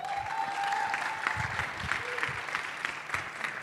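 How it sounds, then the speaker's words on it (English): Audience applauding at a hackathon event, a dense, steady wash of clapping from a crowd that continues for several seconds at moderate loudness. "So I think a round of applause for everyone involved"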